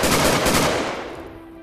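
Automatic gunfire in the video game Hard Line, a loud rapid burst of shots that stops after about a second and leaves a fading echo.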